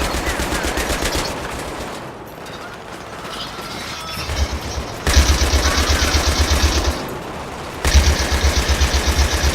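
Battlefield 3 co-op gunfire: sustained automatic bursts rattle loudly through most of the stretch, broken by short pauses, with some mechanical clatter between volleys and no talking.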